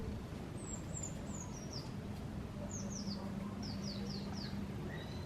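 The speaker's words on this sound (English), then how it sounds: "there's nothing like little birds like that and birdsong" Small birds sing outdoors in short high descending chirp series, fairly faint over a steady low background hum.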